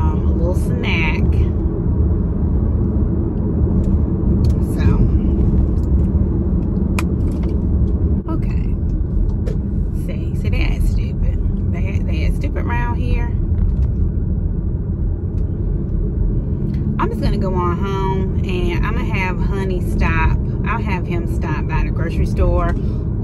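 Car driving through traffic, a steady loud engine and road rumble filling the interior throughout, with occasional higher clicks and bursts of talk over it.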